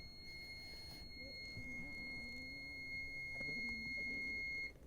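Steady electronic alarm tones from a Nortec 600 eddy current flaw detector hold two high pitches throughout, continuous and fairly quiet, with low talk and background noise underneath.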